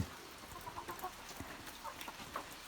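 Muscovy-keeping farmyard chickens cluck softly at a distance while grazing on grass, a few scattered calls over quiet outdoor background.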